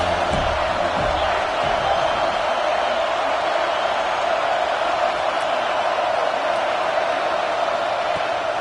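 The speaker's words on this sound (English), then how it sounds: "This crowd trying to make life miserable for this offense." Stadium crowd at a college football game, a dense continuous roar of many voices cheering throughout, loud and steady with no single voice standing out.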